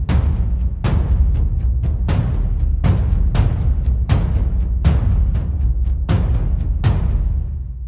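A drum pattern with shifted accents: loud struck hits fall at irregular spacings among quieter hits, close and dry with no voices, tailing off at the end.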